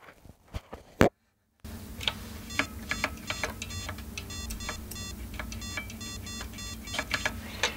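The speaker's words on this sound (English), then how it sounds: "you should be able to hear a beep from the speaker" An Acorn Atom computer's small speaker gives faint, thin beeps, picked up close to the speaker, amid repeated soft clicks and ticking over a low background hum.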